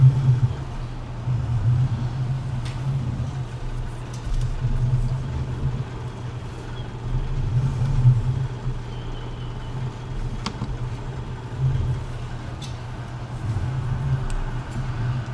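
A tractor in Farming Simulator 19 drives along with a steady low engine drone that holds constant and swells slightly now and then, with no talk over it.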